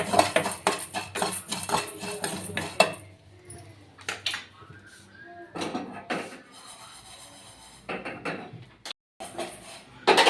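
Fried egg omelette moved onto a plastic plate with utensils, bursts of clinking metal and scraping against dishes, separated by quieter gaps, close and moderately loud.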